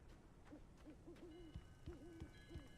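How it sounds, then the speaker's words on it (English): In the video game Alan Wake, an owl hoots softly in a repeated run of short, wavering calls at a quiet, distant level. "Ooh, silly birds."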